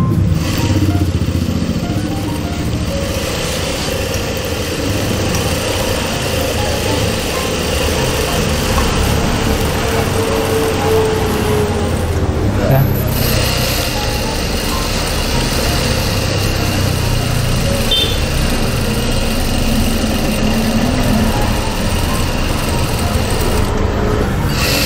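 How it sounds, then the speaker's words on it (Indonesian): A Juki DDL 8100 E servo industrial sewing machine runs continuously, locking a stitch by sewing back and forth, with a steady motor hum and mechanical clatter throughout, briefly dipping around the middle. "kita coba buat mengunci jahitan atau maju mundurnya ya."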